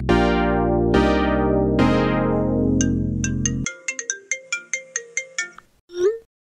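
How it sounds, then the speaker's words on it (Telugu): A loud electronic ringtone plays a repeating melodic chime, then a run of short plucked notes, ending with a brief burst of another tone. "ఫోన్ చేద్దాం"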